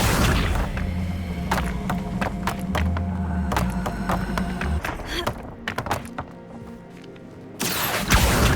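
Accio summoning spell cast in Hogwarts Legacy, heard amid a clatter of dull thunks, knocks and crashes from the game, with a low humming bed beneath them that drops away near the end.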